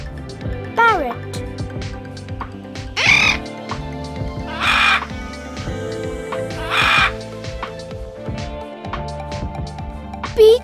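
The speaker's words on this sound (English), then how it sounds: "Parrot." A parrot gives three harsh, raspy squawks, spaced a couple of seconds apart, loud over continuous background music.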